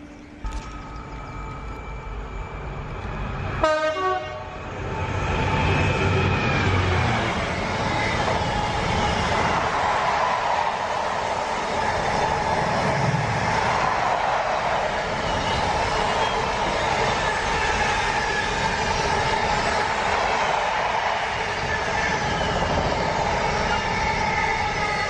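A freight train passes nearby on a curve close to a viaduct and a canal. A sharp clank at the start gives way to a long, steady rumble of rolling wagons with faint wheel squeal that stays loud throughout.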